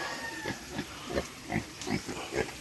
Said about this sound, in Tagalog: Ayan, baboy. Alagang baboy.